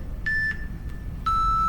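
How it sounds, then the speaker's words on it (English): A workout interval timer in a strength training class sounds two clear electronic beeps: a short higher tone, then a longer lower one, over a low steady background rumble. "There's our timer."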